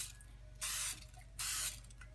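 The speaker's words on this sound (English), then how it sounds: "I'm just going to give a little spray to each of my" Cooking oil spray hisses onto muffin pans in two short, bright bursts, each about a third of a second long, separated by a pause, close and with no talk.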